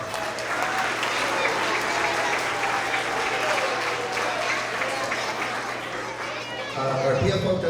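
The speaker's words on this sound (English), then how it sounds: "let's give them a big round of applause" A crowd claps steadily in sustained applause at a school award assembly, dense and fairly close, with some chatter mixed in before it tapers near the end.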